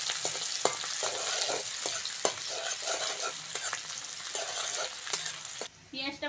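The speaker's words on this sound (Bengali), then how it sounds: "মাছ ভাজার তেলে কুচনো পেঁয়াজটা দিয়ে দেবো।" Chopped onion frying in oil left over from frying fish, a steady crackling sizzle with scattered sharp pops and stirring clicks, close and continuous, with a brief voice near the end.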